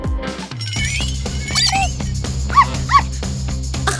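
A dog yips and gives short high whimpers over a busy background of music, with two brief sharp squeaky cries standing out near the end.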